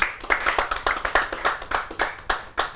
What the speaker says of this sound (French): On applaudit pour Suzy.